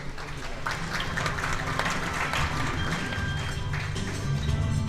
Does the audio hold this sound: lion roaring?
no